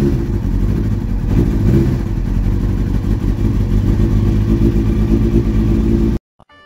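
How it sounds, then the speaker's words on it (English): A 2001 Kawasaki ZX6R sport bike engine idles steadily at close range after an oil and filter change, a loud continuous rumble with slight clatter that cuts off abruptly near the end. "I let the bike run for a couple of minutes to let the oil circulate"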